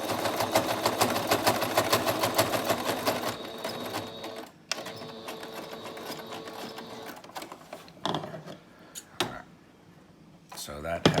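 A domestic sewing machine runs a decorative stitch, pattern number 14, in a fast rhythmic chatter for several seconds, then stops; short bursts and handling noises follow, with some talk in the background.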